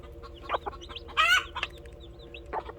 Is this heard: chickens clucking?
yes